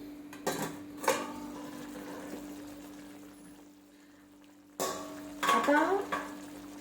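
Stuffed eggplant frying in a pan gets stirred, with a few scraping clinks of a utensil against the pan at the start and again near the end, and a soft sizzle underneath in between.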